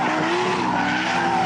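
A car with failing brakes skids with a sustained, loud tire squeal that grinds on without a break, close up and alone.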